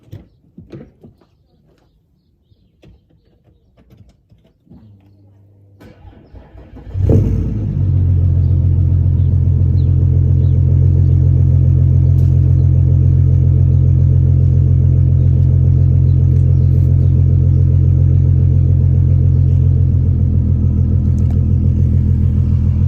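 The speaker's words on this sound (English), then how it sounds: "Just do a cold start." VW Polo 6R Mk5 cold start: faint handling noises and a short cranking, then the engine catches with a loud burst and settles into a steady, droning idle that runs unbroken to the end.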